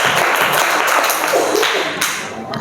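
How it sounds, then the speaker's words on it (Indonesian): Classroom applause during a mathematics lesson, a dense burst of many hands clapping together that fades out toward the end. "Oke, tepuk tangan untuk kita semua."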